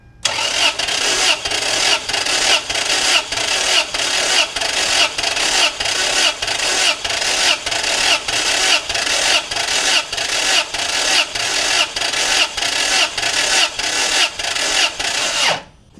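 Toyota Tacoma 2.7L engine cranking on the starter with plugs out for a compression test, a loud, rapid, even whirring rhythm of regular compression pulses that runs steadily for about fifteen seconds and then stops, with no speech.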